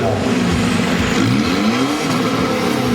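Pickup trucks, Mazda BT-50 and Ford Ranger, rev hard at a drag-racing meet at the Thep Nakorn track, a loud, continuous engine roar with rising and falling pitch throughout.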